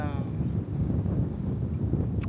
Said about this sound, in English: I know that it is very windy out here.